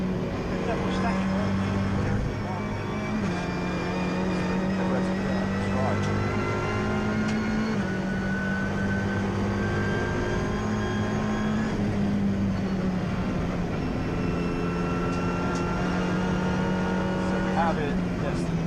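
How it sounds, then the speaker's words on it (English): Race cars, including BMW number 7, pass at Oulton Park during a Britcar Trophy race, with steady engine drone and pitch shifts as they go by, under continuous commentary. "Jonathan Barrett BMW number 7 is coming"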